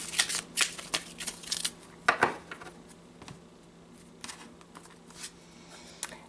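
Tarot advice cards being shuffled and drawn: a run of crisp riffling and flicking bursts, then softer scattered slides and taps of cards, close and fairly quiet with no talking.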